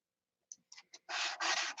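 Hand sanding primer on a car body: a few short, soft scrapes, then three longer, louder rasping strokes close by, with no voices.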